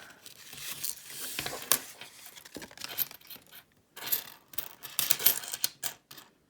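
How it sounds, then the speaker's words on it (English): A paper roll of pennies is torn open and the coins spill out, giving crinkling paper rips and bursts of clinking metal in uneven clusters, close and fairly quiet with short pauses between. "Let's get the rest of this roll opened up."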